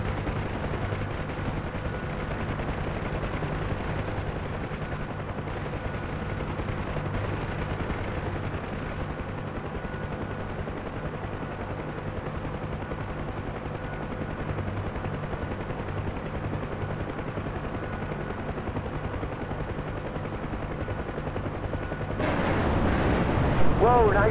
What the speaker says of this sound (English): Gonzalez, fire the rockets into the bush.